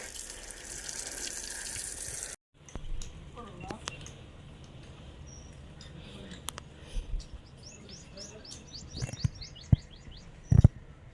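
Water runs from a tap for washing at a rural home: a steady rush of flowing water for the first couple of seconds stops abruptly, then birds chirp and tweet faintly in the background with scattered clatter and a few sharp knocks.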